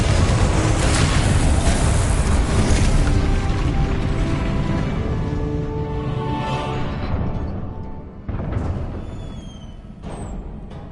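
A loud, sustained magical blast from the Confringo spell in Hogwarts Legacy roars with dense, crackling rumble for several seconds, fades, then a second sharper burst hits near the end.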